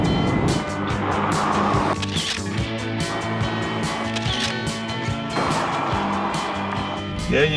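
Mazda MX-5 Miata cars drag racing, one new and one old, with an engine revving hard and climbing through gears, droning harmonics rising then dropping at shifts, loud and close from inside the car while people talk over it.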